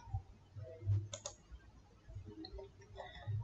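A computer mouse clicks while working in MS Word, a few sharp, close clicks over a quiet background.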